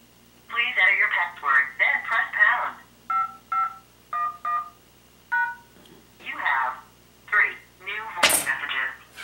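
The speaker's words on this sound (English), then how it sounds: "Now go to the phone. And then go to dial. And go to 1." Telephone keypad dialing: a series of short beeping DTMF tones in quick groups, mixed in among speech from nearby voices, followed by more talking and a sharp thunk near the end.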